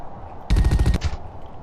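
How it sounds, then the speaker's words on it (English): A rapid burst of an assault cannon firing in The Red Solstice video game, about half a second of loud, close, machine-gun-like shots followed by a brief decaying tail. "I suppose the noise for your assault cannon isn't bad"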